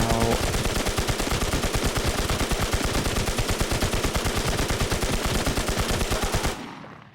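Automatic gunfire in the video game Infestation, a long loud stream of rapid evenly spaced shots hammering on for several seconds before cutting off with a short fading tail.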